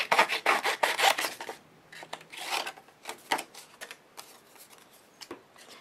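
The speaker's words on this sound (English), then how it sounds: "I'm going to go ahead and use my scissors and cut this out." Scissors snip through paper in short bursts, a quick run of cuts followed by slower, separate snips, close and fairly quiet.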